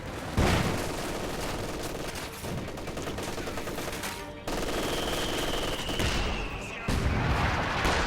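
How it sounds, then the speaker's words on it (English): Artillery and gunfire in the World War II strategy game Company of Heroes 2, with sustained rattling machine-gun bursts, sharp shots and booming impacts layered loudly over one another, the intensity shifting in steps throughout. "the artillery duel in the middle kind of begins"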